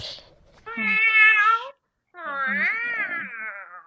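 Two drawn-out cat meows, one after another with a short pause between, loud and close, mixed with a faint voice-like babble.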